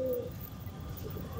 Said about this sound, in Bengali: কালশিরা বাচ্চা পায়রা